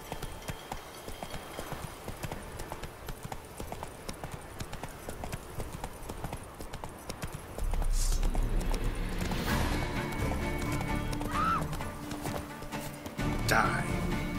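Hooves of the horse Roach clatter in a steady galloping rhythm in The Witcher 3, joined midway by louder rumbling game effects and sharp bursts.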